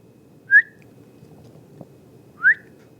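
A frog gives two short, clear whistle-like chirps about two seconds apart, bright and insect-like against a quiet low background.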